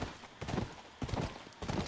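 A horse's hooves clop along in The Last of Us, bunched strikes arriving in three rhythmic bursts, near and clear, with no voices heard.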